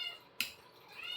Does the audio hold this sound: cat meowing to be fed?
yes